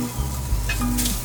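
Halibut fillet frying on a slick griddle, a steady close sizzle with a brief shuffle and clatter as the fish is turned, no voices.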